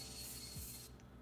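Fine mist of Beauty Bakerie Sweet Grace Baking Spray setting spray sprayed close up as a makeup finish, a single steady hissing burst lasting about a second that cuts off abruptly.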